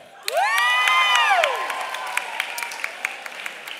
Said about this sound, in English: And another round of applause for this year's scorekeeper,